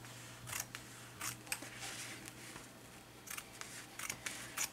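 Scissors snipping around fabric backed with Heat'n Bond for cardstock crafting, a series of short, crisp cuts in uneven bursts, close and fairly quiet.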